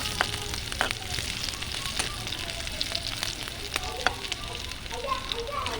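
Onions and dried red chilies fry in a pan with a steady hiss, dotted with small pops and crackles. It sounds close and moderately loud, with no talking.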